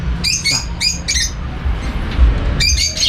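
Birds and hens in an aviary give several loud close chirps and squawks in short clusters over a noisy outdoor background.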